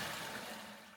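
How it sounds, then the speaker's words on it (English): A hotel bathroom toilet flushing, a steady broadband rush of water that fades slightly toward the end, heard up close with no talking. "And regular toilet, 2 flushing modes."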